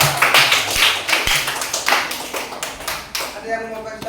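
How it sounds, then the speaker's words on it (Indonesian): A classroom of students applauds a group of peer-teaching presenters, many hands clapping in a dense, steady patter for about three seconds before thinning out as a voice and murmuring take over at the end. "Tepuk tangan untuk kelompok tiga."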